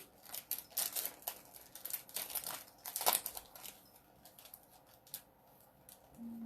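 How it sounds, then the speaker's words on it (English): Chalk transfer pulled from plastic packaging: close, quiet crinkling and rustling in irregular bursts, with a sharper crackle near the middle before the handling fades. "I'll pull it out of the packaging"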